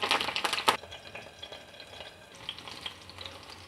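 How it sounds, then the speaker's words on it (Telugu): Green chillies dropped into hot oil in a pan crackle and sizzle, with a burst of sharp pops and stirring clatter at first that settles into a quieter, continuous fry. "ఇప్పుడు ఇందులో నేను ముందుగా పచ్చిమిరపకాయలు వేస్తున్నాను."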